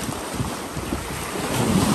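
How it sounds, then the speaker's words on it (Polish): Sea waves wash along the Croatian coast in continuous surf. Strong wind rumbles across the microphone, and the sound stays loud and steady with no voices. "Zobacz, jakie fale się zrobiły."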